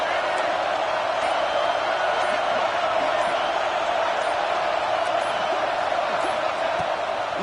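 A college football stadium crowd roars for the defense on a big third down at a Colorado game, a loud, dense, continuous wall of cheering and noise that holds steady throughout.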